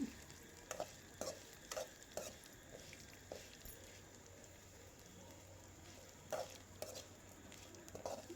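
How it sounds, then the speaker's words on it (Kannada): Tamarind frying in a hot pan for a red chutney, with a steady low sizzle broken by repeated scraping stir strokes, close and fairly quiet, no talking. "ಇದೇ ಬಿಸಿಯಲ್ಲಿ ಹುಣ್ಸೆಣ್ಣು ಹಾಕ್ಕೊಂಡು ಫ್ರೈ ಮಾಡ್ಕೊತೀನಿ"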